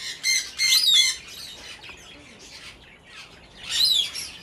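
A breeding pair of Holland budgies chirps in short bright bursts near the start and again toward the end, with quieter gaps between the calls.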